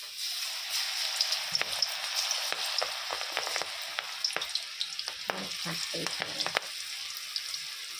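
Onion stalk pakoras in a rice-flour batter frying in hot oil, giving a steady close sizzle with scattered crackles and pops throughout.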